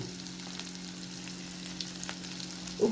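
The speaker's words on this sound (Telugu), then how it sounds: "ఇవన్నీ కొంచెం వేయించుకోవాలండి, కొంచెం బ్రౌన్ అయ్యే వరకు వేయించుకోవాలి" Onions fry in a pan until brown for masala khichdi, a steady close sizzle with a faint hum and a few light clicks, ending in a brief utensil knock.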